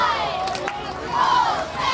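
Crowd noise and cheerleaders cheering at a high school football game between Churubusco and Fremont, a broad steady roar of many voices with chant-like swells rising louder near the end.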